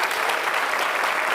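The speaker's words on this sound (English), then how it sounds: "how about a round of applause for this amazing set they have created?" A live audience claps for an elaborate stage set in a brief, dense burst of applause that stays loud and even throughout.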